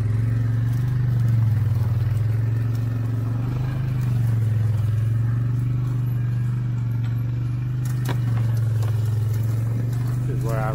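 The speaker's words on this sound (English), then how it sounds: "Let me find me a low gear to ease in here." A hunting truck eases along in low gear on a whitetail deer tracking outing with dogs, its engine a steady low drone with faint rattles throughout, close and constant.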